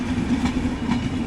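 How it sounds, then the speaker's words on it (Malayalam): An Agra Cantonment–New Delhi Intercity Express with an LHB rake rushes past, a loud continuous rumble with rhythmic clickety-clack of wheels over rail joints, close by. "Agra cantonment New Delhi intercity express ആണ് ട്രെയിൻ"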